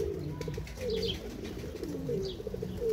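Domestic pigeons coo repeatedly in a loft, low rolling calls overlapping one another at close range, with a few faint chirps mixed in and no talking.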